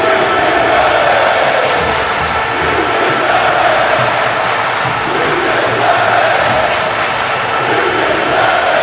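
A large arena crowd in a WWE 2K wrestling video game cheers continuously, a dense, loud, sustained roar with chanting swells throughout.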